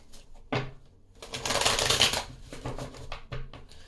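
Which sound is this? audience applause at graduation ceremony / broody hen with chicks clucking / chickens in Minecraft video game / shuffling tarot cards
shuffling tarot cards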